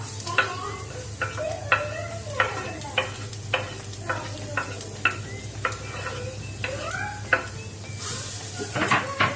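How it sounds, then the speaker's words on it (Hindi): Grated raw papaya stirred in hot oil in a pan, giving a steady sizzle broken by repeated scraping strokes at a regular rhythm, close and clear. "इसी में डाल देंगे हमारा ये ग्रेट किया हुआ कच्चा पपीता"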